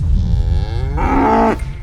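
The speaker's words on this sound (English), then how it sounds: "You want to try milking a cow?" A farm cow gives a loud, close moo as she is approached for milking, a long rising then sustained low call, with no one talking over it.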